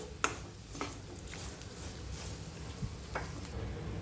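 Salted cluster beans being stirred in a pan over a low flame, with a few scattered scrapes and taps of the spoon over a soft, steady frying sizzle.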